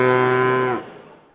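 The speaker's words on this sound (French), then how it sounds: "Les vaches normandes et cénomarines sont bien là aussi" A Normandy cow at an agricultural show gives one long, loud, close moo that cuts off abruptly, followed by quiet hall ambience.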